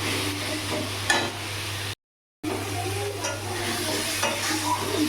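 Spice masala frying in a pan over a gas flame for a Bengali tengra fish curry, a steady close sizzle with stirring scrapes, briefly cut by a moment of silence midway.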